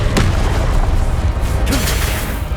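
Confringo blasting spell going off in Hogwarts Legacy, a dense, loud rumbling explosion with sharp bursts near the start and later, heavy low energy throughout and no talk over it.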